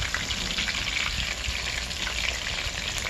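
Chicken pakoda frying in hot oil, giving a dense, steady crackling sizzle that is close and even throughout, with no voices.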